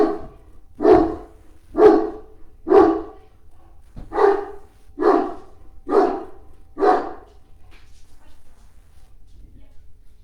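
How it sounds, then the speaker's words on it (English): A dog barks indoors during a yoga breathing session, about eight loud, evenly spaced barks in a row, then quiet. "excuse the dog."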